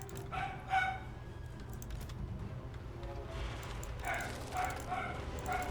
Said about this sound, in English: So that dog's barking, just ignore it.